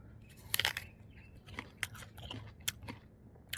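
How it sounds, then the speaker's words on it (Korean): Someone bites into an unpeeled Aori apple and chews it. Sharp crisp crunches come in close, followed by quieter wet chewing clicks at an uneven pace, soft and near with no speech. "껍데기 자체도 안 까고 먹으니까 조금 더 그렇네요."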